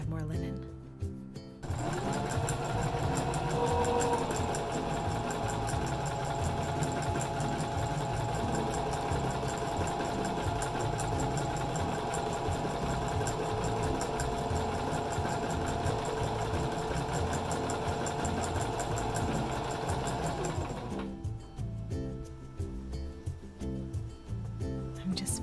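A sewing machine stitches a linen shift, running in one long steady whir for about twenty seconds, close and even, with brief quiet moments before it starts and after it stops.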